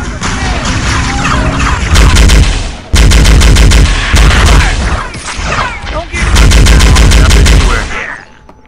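Rapid rifle gunfire from Halo 1 SPV3 rattles in loud, dense bursts separated by brief gaps, layered with game effects and combat noise.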